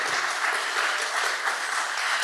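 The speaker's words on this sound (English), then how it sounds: "Can we give them a round of applause, please?" Audience applauding the AV team at the Midwest Beaver Summit wrap-up, steady dense clapping from a sizable room, even and sustained with no speech over it.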